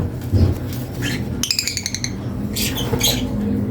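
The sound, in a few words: African lovebird hen calling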